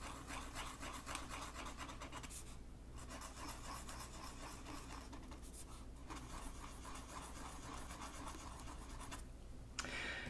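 A pen or marker drawing marks for valve holes on a homemade trumpet, a faint continuous scratching and rubbing across the surface with a few short pauses, close and quiet, with no talk.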